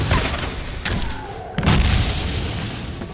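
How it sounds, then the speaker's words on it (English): A grenade goes off in the game Meet Your Maker: a loud, booming blast near the start, then a second heavy boom and rumbling decay, with no talk over it. "Did we get him with the grenade?"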